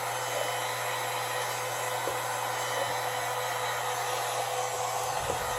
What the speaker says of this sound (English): So get your heat gun. Just always throw it on 900 and just high.